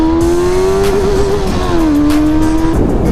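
A KTM Duke 390 and a Benelli 600i motorcycle race each other, and their engines hold a loud, close, steady drone. The pitch wavers and dips slightly as the riders work the throttle.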